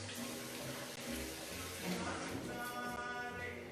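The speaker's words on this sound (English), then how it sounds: "Gave myself a quick rinse of my hands." Tap water streams steadily into a sink while hands are rinsed beneath it, a continuous close splashing rush with small shifts in tone as the hands move through the flow.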